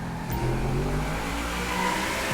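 A car engine revs and whines under load while drifting in the GTA video game, a sustained mid-pitched engine drone with rising and falling tones, fairly close and steady throughout.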